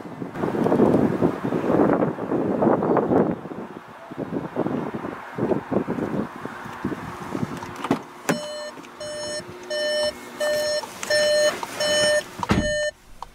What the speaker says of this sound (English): That beeping, by the way, was just to tell me the ignition that was on when I left the car.